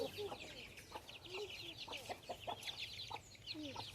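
Chickens cluck in a soft, continuous chorus of short, repeated calls, with faint background sounds underneath.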